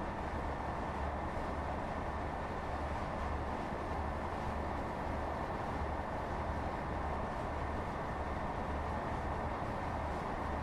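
A Class 158 Sprinter diesel multiple unit runs steadily in Train Sim World 3, giving a low, even engine drone and rumble with a faint constant hum, continuous and unchanging throughout with no voices.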